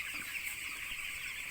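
Broiler chicks of the Asha company chatter and cluck together on a poultry farm, a dense, steady chorus that carries on without a break and has no talk over it.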